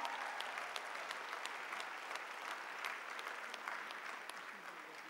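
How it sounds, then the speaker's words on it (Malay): An audience applauds at a university convocation ceremony with steady, fairly quiet clapping. Individual claps stand out crisply above a continuous wash of hands, and no voices are heard. "Ayuh sama-sama kita berikan tepukan yang paling gemuruh dan tunduk hormat buat semua."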